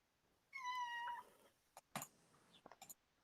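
A person imitates a cat with one clear, drawn-out meow, followed by a few short soft sounds and faint clicks in a quiet room.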